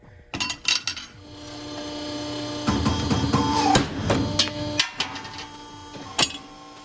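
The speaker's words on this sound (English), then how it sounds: "I have a shear, so I'm going to use it" Metal shear cutting sheet metal for a mini ribbon burner forge, with a sharp clank, a grinding crunch of the blades through the plate, and a few loud metallic snaps and knocks close by.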